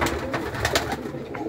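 Pigeons coo close at hand, a few soft repeated coos over a steady low background hum.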